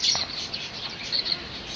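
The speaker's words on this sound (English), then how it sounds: "See, there are lots and lots of birds." Small birds chirp and tweet on a farm, with several thin, high calls that repeat close by over a steady outdoor background, and nobody speaks.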